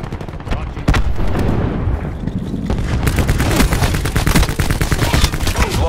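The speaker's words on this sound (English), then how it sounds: "Cluster grenade going out." Cluster grenades in Call of Duty: Black Ops 4 multiplayer go off as a loud, sustained barrage of overlapping blasts and rapid crackling detonations, thick with gunfire-like bursts.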